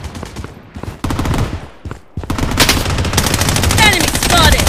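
Rapid automatic gunfire from the Project Bloodstrike shooter game rattles in loud bursts, pauses briefly, then resumes as sustained heavy fire with overlapping shots and sharp ricochet-like whines near the end.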